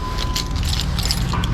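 Metal keys jangle and clink close by in brief bright rattles, over a steady low rumble of outdoor background noise near a truck.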